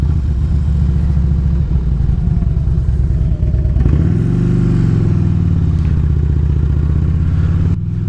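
A 2007 Harley-Davidson Road King Classic motorcycle rumbles loudly and close while riding, its engine pitch climbing smoothly as it accelerates through a gear change.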